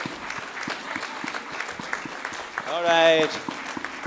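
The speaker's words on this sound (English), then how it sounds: "Let not the applause go down." An audience at a design conference claps through a crowd of voices, with a person speaking briefly over the applause and a short burst of tuneful music rising partway through.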